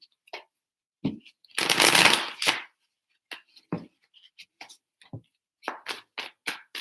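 A deck of tarot cards being shuffled by hand: a few quick riffling bursts and soft taps with one longer flutter, close and clear with quiet gaps between.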